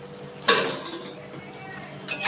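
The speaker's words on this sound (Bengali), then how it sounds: "আমি ঢাকনাটা খুলে দেখছি" A metal lid is lifted off a pot of prawns and ridge gourd cooking on low heat. There is a sharp metallic clank, a soft settling rattle, then a second clatter near the end.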